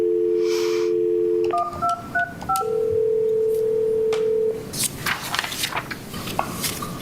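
A telephone on speakerphone dialing out, with a quick series of DTMF keypad tones after a steady tone and a longer held tone, heard close over a room's background noise during a county board of appeals meeting.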